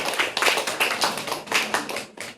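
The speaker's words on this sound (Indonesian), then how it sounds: "beri tepuk tangan kembali buat teman kita." Scattered claps from a small group at a coaching supervision session, coming in uneven bursts that swell and fade, fairly quiet and with no talking over them.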